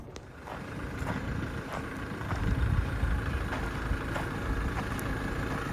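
A tractor engine runs steadily at close range, a continuous low rumble with a slight rise in loudness partway through, no talk over it.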